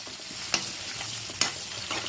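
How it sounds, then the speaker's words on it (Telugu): Finely chopped onions fry in a pan with turmeric for a spicy bachhalikura pachhadi. A steady sizzle runs beneath two sharp scrapes of a stirring spoon against the pan. "ఉల్లిపాయలు కూడా బాగా వేగిపోవాల్సిన అవసరం ఏం లేదు, జస్ట్ వేగితే చాలండి."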